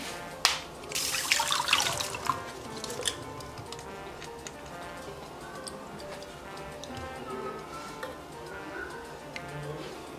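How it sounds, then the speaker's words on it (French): Bay leaf water infusion poured through a sieve, a brief burst of pouring and splashing near the start, then quieter drips and small ticks trailing off. "Une fois que c'est bon, on va tamiser tout ça."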